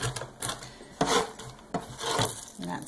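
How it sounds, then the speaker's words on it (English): A knife chops walnuts coarsely on a board a handful at a time for walnut bread, making a few sharp, irregular thuds and crunches close by. "So we're just gonna put a handful at a time. And just give them a coarse chop"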